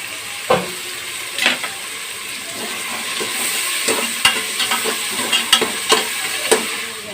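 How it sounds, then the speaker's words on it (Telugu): Onions fry in a pan with salt until brown, a steady sizzle broken by several sharp stirring scrapes and clacks, close and moderately loud with no voices. "బ్రౌన్ కలర్ వచ్చేదాకా వేయించుకోవాలండి ఉల్లిపాయలు"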